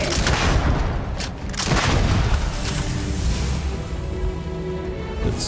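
Grenade explosion in the video game Starfield within a sustained loud barrage of booms and gunfire, dense and rumbling throughout the stretch.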